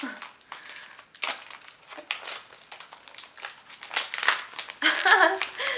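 Plastic tape and wrapping crinkle and crackle continuously in uneven bursts, close up, as someone struggles with a taped package; louder rustling near the end.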